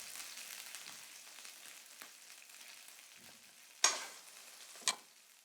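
Pork chops sizzle and fry in a hot pan, a soft steady crackle with two sharp clicks or pops near the end, no voices.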